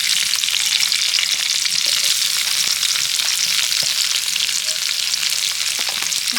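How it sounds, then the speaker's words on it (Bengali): Chopped onions sizzle steadily in hot oil tempered with whole cumin and whole garam masala, a loud, continuous close frying hiss with faint scattered pops and no voices. "এবার কুচিয়ে রাখা পেঁয়াজগুলো আমি তেলের মধ্যে দিয়ে দেব।"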